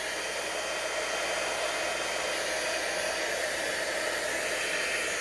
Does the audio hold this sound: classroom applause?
no